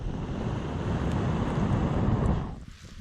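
A person blows hard into a wood fire in an ultralight titanium hibachi backpacking grill, making a close, continuous rush of breath for about two and a half seconds before it trails off.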